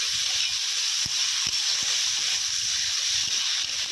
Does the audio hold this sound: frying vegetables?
yes